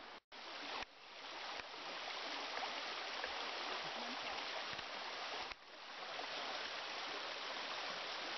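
Second Fork Brook flows near its mouth beside an old sugar maple stand, a constant close rushing of water that runs unbroken with no talking.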